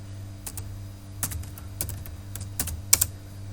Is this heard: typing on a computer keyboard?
yes